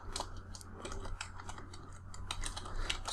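Quick bursts of keystrokes on a computer keyboard, close and fairly quiet, tapping in an irregular rhythm over a steady low hum.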